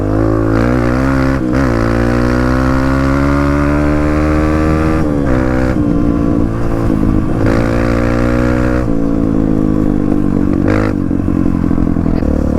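Dirt bike engine droning steadily while riding and turning, pitch rising and falling with throttle changes and brief dips, close and loud throughout with no talking.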